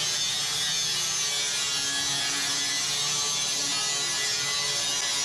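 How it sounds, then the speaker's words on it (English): A flap disc on a grinder smooths metal edges on a custom truck bed for a 1966 Chevy 1-ton dually, producing a continuous loud, hissing grind up close with no talking. "And again with the old flapper disc,"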